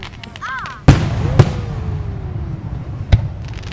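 Backyard fireworks burst in three close, loud cracks, two in quick succession and a third a moment later. A brief voice comes just before the first blast, and a faint whistling trail follows the second.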